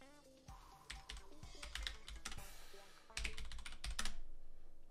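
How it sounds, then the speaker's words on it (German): Fast, dense typing on a computer keyboard clatters in rapid irregular bursts during an online drawing game, close and fairly loud, building toward a flurry of heavier keystrokes. "Sascha ist nicht normal mit der Tastatur, die Tippnudel"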